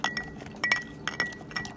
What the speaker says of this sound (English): I'm gonna give this a little muddle.